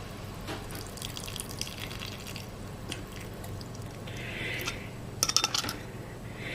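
Starchy potato juice is poured into a cooked roux in a pot, making a soft, steady liquid pour and splash with a brief brighter burst of sloshing near the end.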